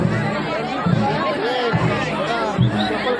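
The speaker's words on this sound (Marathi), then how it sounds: "गर्दी पूर्ण भरलेली आहे" Crowd chatter at a packed temple gathering, a dense, steady babble of many voices close by that stays loud without letup.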